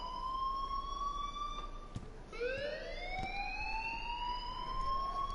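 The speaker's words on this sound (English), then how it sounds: "please turn off that alarm since that's your job" An alarm wails steadily inside the Life is Strange video game, a sustained electronic siren tone that dips and sweeps back up midway, loud and alone with no talking.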